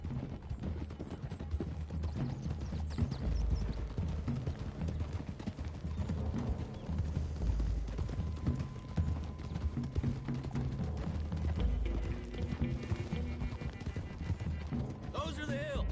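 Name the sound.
horses hooves clip-clopping in video game Red Dead Redemption 2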